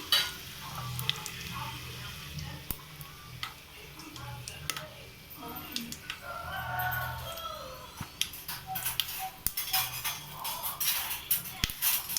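Crushed cloves and biryani spices sizzle in hot ghee for a vegetable biryani, a steady close frying hiss broken by sharp ticks and light stirring clicks, with faint talk in the background.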